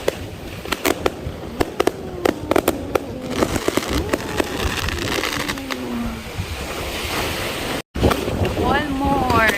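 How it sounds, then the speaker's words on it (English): Fireworks over the seaside at Tsilivi, Zakynthos, crackle and pop in a rapid irregular string of sharp bursts, with whistling rising tones near the end, heard at a distance over steady wind rumble and murmuring crowd voices. "There's the fireworks."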